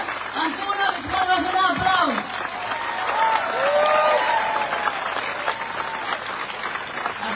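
Concert audience applauds steadily in a hall, broad sustained clapping with a voice speaking over it near the start.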